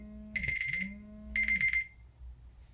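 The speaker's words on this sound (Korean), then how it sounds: "요 벨소리는 뭐예요? 알람입니다." A classroom alarm ringtone sounds in two short bursts of bright, buzzing electronic tone about a second apart, fairly clear and close, with a low steady hum underneath and no talking.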